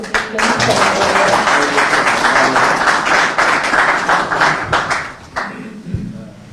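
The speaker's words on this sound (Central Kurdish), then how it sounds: "بە یەک چەپڵەی گرم بە پێشوازی لە مامۆستا چالاک" An audience at a Kurdish music and maqam lecture gives warm applause to welcome the speaker, a dense, close burst of many hands clapping that fades out over several seconds.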